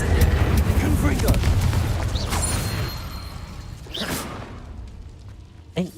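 A Confringo blasting spell in Hogwarts Legacy erupts with a heavy, rumbling boom and crackle, then swooshing bursts follow as the roar slowly settles into a quieter tail. A voice may be faintly present.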